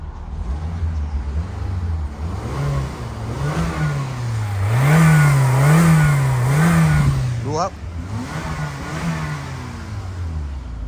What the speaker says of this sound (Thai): เสียงเครื่องยนต์โอเคใช้ได้นะครับ